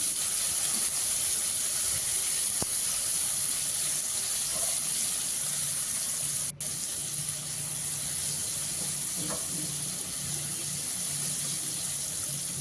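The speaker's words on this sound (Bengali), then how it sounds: "টমেটোগুলো একটু ভেজে নিয়ে তারপরে দিয়ে দিচ্ছি চেরা কাঁচা লঙ্কা।" Chopped tomato frying in a pan as part of a taro-leaf curry with hilsa fish head, a steady loud sizzling hiss that runs without a break, with a single faint click partway through.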